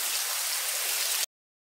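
Heavy rain pours down steadily during a flood in a house in Itaguaí, Brazil, a loud, dense wash of water that runs without a break for about a second and then cuts off abruptly.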